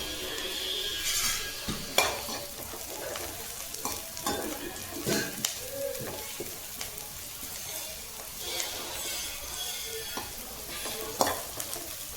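Onions frying in a pan for egg masala, stirred repeatedly with a utensil that scrapes and clinks, over a steady close sizzle with no talk.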